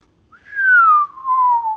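A person whistles a single clear note that slides slowly downward, with a brief dip partway through, close and loud against silence.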